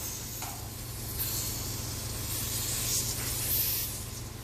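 Evaporator rinse sprayed onto the coil of a ductless air conditioner during cleaning, a steady close hiss of spray lasting several seconds with slight swells in strength.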